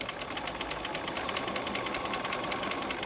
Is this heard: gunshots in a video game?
no